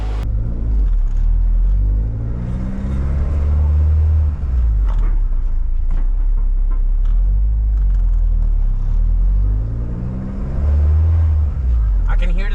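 A Honda car engine idling while warming up, a steady low rumble that swells and eases slightly, with someone talking over it much of the time.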